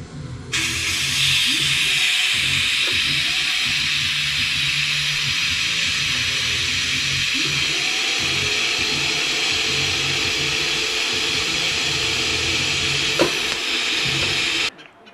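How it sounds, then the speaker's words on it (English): Welding a nut and washer onto a steel Mustang body jig, a steady loud hissing, crackling arc that runs nearly unbroken for about fourteen seconds, with a faint low rumble underneath. "just tacking the washer onto the bottom, filling in the little ring that's left, and then welding the nut to the other side of the washer"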